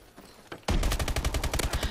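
Video game gunfire aimed at explosive barrels: after a short quiet lead-in, loud rapid automatic shots burst out suddenly and continue in a steady, pounding rhythm close up.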